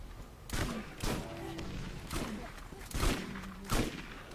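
Gunfire in the co-op shooter Borderlands: about six sharp shots at uneven half-second gaps, fairly close, over low game ambience with a little talking.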